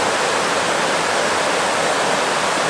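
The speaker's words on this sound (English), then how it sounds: "there's the Falls of Palace. Lovely little waterfall like, not bad." Steady, dense roar of the Falls of Falloch waterfall near Crianlarich, Scotland, a continuous full-bodied rush of falling water heard close and alone with no voices.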